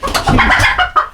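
Backyard chickens in a coop cluck and squawk close by, a short burst of busy overlapping fowl calls with no talking.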